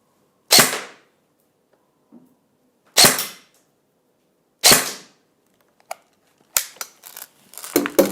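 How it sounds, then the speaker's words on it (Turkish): A G&G CM16 SRXL airsoft rifle fires 0.20 g BBs over a chronograph. Three sharp, loud, close reports ring out at uneven intervals, each with a short decay, followed by a run of lighter clicks and mechanical rattles. "Arkadaşlar 3 atış yaptı, 405 FPS veriyor."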